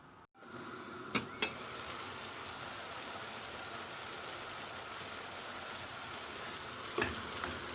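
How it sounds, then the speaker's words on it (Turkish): Beans sautéing in a pan for a Turkish egg-and-bean kavurma, a steady, soft sizzle and crackle of frying that runs throughout, with a couple of brief clinks of a utensil against the pan. "Fasulyemizi güzelce kavurduk"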